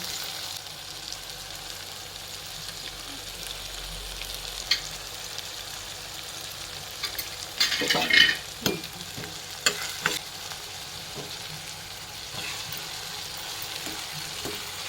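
Tempering for poha crackles gently in a pan in a home kitchen, a low steady sizzle broken by a few louder stirring scrapes and clinks midway.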